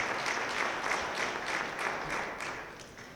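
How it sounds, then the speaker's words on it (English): An audience at a high school athletic hall of fame ceremony applauds track and field coaches, a steady, even patter of many hands clapping that continues throughout with no talk. "if you can give them a round of applause, they do a terrific job with our track and field programs"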